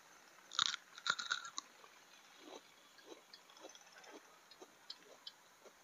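Someone bites into and chews a fresh, ripe, round purple ornamental chili pepper, with a few crisp crunchy bites up front followed by softer, quieter close-up chewing, and no talking.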